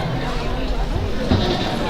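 Goats bleat close by at a junior goat show, wavering cries over a steady crowd murmur and an announcer's voice.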